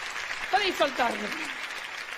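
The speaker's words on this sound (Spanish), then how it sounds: "¡fuertes aplausos para mis ayudantes!" Applause for a magician's assistants at a live magic show, a soft clapping bed running under a man's speech.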